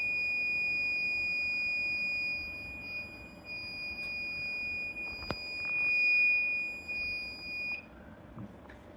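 A smart helmet for mine workers sounds its temperature alarm buzzer at the 30-degree threshold, a steady high-pitched electronic tone that holds for about eight seconds and then stops, with a faint click partway through.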